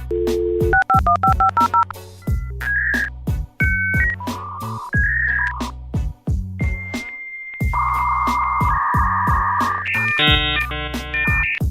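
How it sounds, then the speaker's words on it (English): A dial-up internet modem connecting: a rapid run of telephone keypad tones, then loud steady whistles, warbling screeches and buzzy handshake noise, alone and close. "This was a time when you had to get on the internet and it sounded like this."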